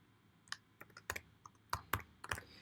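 Sparse keystrokes tapped on a computer keyboard, about a dozen crisp clicks in irregular bursts, close and quiet against a faint background hum.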